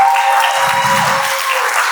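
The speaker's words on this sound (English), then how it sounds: "I think we should give Sam another applause." Brief, loud applause from an audience at an investor summit demo day, a steady dense patter of clapping over the full stretch with a faint low tone running beneath.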